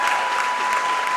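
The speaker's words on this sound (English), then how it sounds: "Gets a standing ovation from both sides of the crowd" Spectators at a girls' high school basketball tournament game give a standing ovation, with loud, steady applause and crowd noise continuing throughout without a break.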